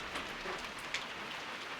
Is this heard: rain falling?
yes